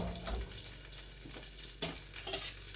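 Cumin seeds fry in a pan with a constant close sizzle and crackle, broken by a few scraping stirs and clinks of a utensil, moderately loud with no speech.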